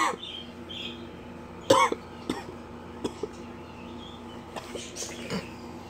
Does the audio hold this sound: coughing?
yes